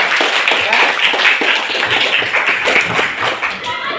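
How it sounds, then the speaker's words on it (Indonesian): Schoolchildren in a grade 8 classroom clap their hands for a classmate, a busy, uneven patter of close claps with children's voices mixed in throughout. "tepuk tangan dong buat Alfia pintar"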